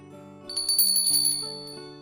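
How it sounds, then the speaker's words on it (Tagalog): A bicycle bell rings with a bright metallic trill that swells and fades over about a second, alongside sustained low tonal hum in the background. "Kampanilya ito."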